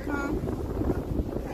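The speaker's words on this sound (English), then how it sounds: "It's windy tonight, guys." Wind buffets the microphone with a steady low rumble and gusty roar throughout, fairly loud and close.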